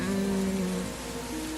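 Rain falls in a steady, close hiss, with a sustained tonal hum layered over it for most of the moment.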